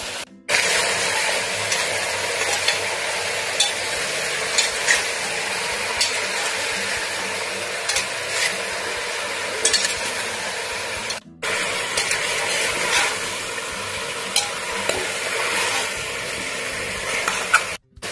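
Chopped papaya and carrot fry in a pot for chicken soup, giving a steady, loud sizzle with stirring scrapes throughout, broken by one brief gap.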